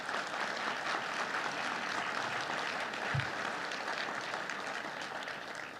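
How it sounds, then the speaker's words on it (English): An audience at a city State of the City address gives a round of applause for city employees, a soft, steady spread of clapping across the room that slowly fades toward the end. "So I'd like to give you an opportunity to give them a round of applause"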